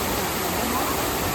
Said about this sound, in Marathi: पूर्ण सगळे झरे आता चालू झाले आहेत.